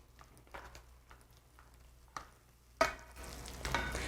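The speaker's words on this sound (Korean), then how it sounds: "이렇게 버터가 더 녹으면 여기다가 대파를" Green onions are added to melted butter in a pan over medium heat for a winter oyster dish: quiet scattered stirring taps, then a sudden louder sizzle that keeps crackling.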